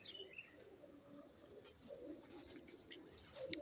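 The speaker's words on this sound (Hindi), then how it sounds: "तो ये कबूतर देख सकते हो" Soft, low pigeon coos repeat faintly against quiet outdoor background, with a few light chirps and rustles.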